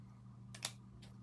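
Two faint, short scissor snips trimming long ribbon ends for an Easter wreath, heard close and alone over a low steady hum.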